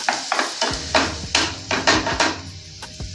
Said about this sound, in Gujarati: એને ડુંગળીને પહેલાં થોડો ફ્રાય થવા દઈશું.